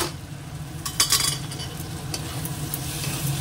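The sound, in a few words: fish paturi frying in oil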